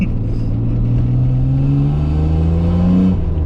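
Vintage car pulling hard through first gear, a loud, close engine note rising steadily in pitch as it revs, then easing off near the end.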